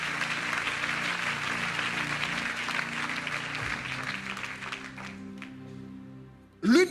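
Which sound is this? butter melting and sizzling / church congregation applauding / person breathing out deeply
church congregation applauding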